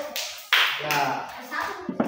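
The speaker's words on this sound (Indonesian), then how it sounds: "Tepuk tangan untuk yang lalu." Children clap briefly in a primary school coding lesson, a few uneven bursts of close hand claps mixed with voices and small classroom noises.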